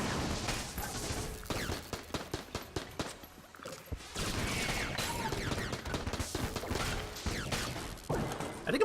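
Rapid bursts of alien sidearm fire in the Enter the Gungeon video game, repeated quick shots in clustered volleys with brief pauses, mixed with impact and mechanical game effects.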